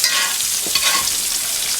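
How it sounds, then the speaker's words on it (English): Steady, close sizzling of cucumbers frying in a pan, a continuous hiss with a few brief stirring scrapes partway through. "They're sizzling, for sure."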